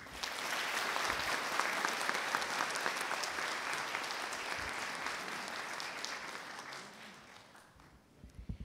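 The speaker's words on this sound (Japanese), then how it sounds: "改めまして盛大な拍手をお送りください。" Audience applause after a lecture on advanced look development, dense and sustained for several seconds before tapering off near the end, with a few scattered claps at the close.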